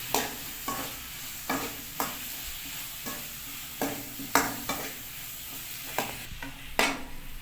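Chopped tomato sizzles in a frying pan while a spoon stirs it in repeated scraping strokes, roughly one every second, over a steady close frying hiss.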